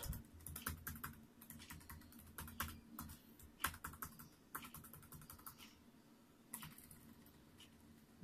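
Keys clack in quick, uneven bursts on an Acer TravelMate 240 laptop keyboard, faint and close, with short pauses between runs of typing.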